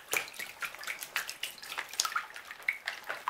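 A shaker gold pan concentrator is shaken under water, giving close sloshing and splashing with bursts of water movement and faint drips, and no talking.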